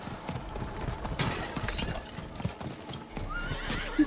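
A horse gallops in Diablo IV, rhythmic clip-clop hoofbeats with snorts and a whinny over game ambience, moderately loud and close.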